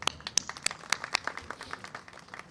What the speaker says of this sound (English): So I'll request you give a big applause.